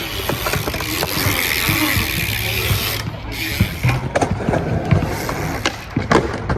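A BMX bike rolls and pumps through the corner of a skate bowl, its tyres producing a loud, continuous rushing roar on the concrete, with rattling clicks from the bike as it carves.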